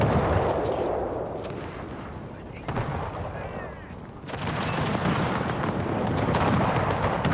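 Musket volleys crackle and boom across a Pike & Shot Total War battlefield, dense overlapping gunfire rolling continuously with heavier bursts near the middle and toward the end, loud and sustained.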